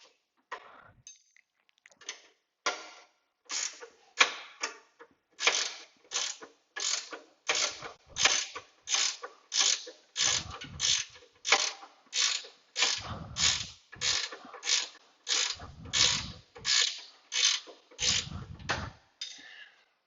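A ratchet wrench backs a nut off a bracket on a 1995 Chevrolet Camaro, giving steady, evenly spaced metallic clicking strokes close to the microphone, with occasional low thumps between them.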